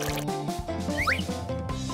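Water pours and drips into a small pool being filled as a cradle, gurgling and sloshing at moderate level, with a few soft clinks and squishes over a steady liquid flow.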